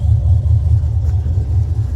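1967 Pontiac GTO convertible restomod with an LS3 V8 breathing through a Flowmaster 3-inch exhaust, heard as a loud, close, deep burbling idle with a steady low pulsing rumble and no talking.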